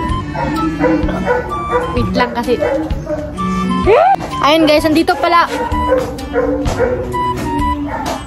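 A dog yips, barks and whimpers repeatedly near the microphone as a person talks over it, with a brief rising whine midway.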